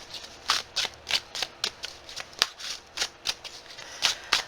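Tarot cards are shuffled and dealt out in a steady run of about a dozen crisp, close riffling flicks, each a short papery burst, with no talk over them.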